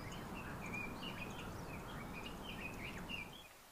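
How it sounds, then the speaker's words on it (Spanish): Small bird singing in a forest, repeated high chirps and short trills coming and going throughout, fairly faint over a soft, steady background hiss. "de vez en cuando el canto de algún pajarito"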